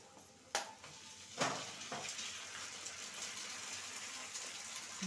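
Egg being stirred into onion and green chilli frying in a pan, a soft sizzle running throughout with a few sharp scraping strokes near the start, close and fairly quiet, no voices.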